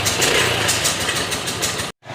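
A motorbike engine runs steadily and loud up close, a continuous mid-pitched drone as riders head off to Friday prayers, then cutting out abruptly near the end.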